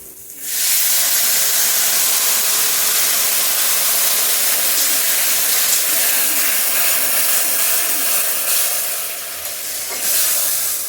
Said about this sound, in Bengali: এখন দিয়ে দিচ্ছি তেঁতুলগুলা, তেঁতুল সেদ্ধ করা জলটা তেঁতুল সহকারে